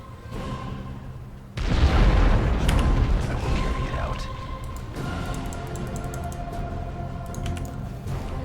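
A heavy bomb explosion in the strategy video game Warhammer 40K Dawn of War 2 erupts suddenly with a deep, loud boom, then rumbles and fades over several seconds beneath battle noise and a speaking voice.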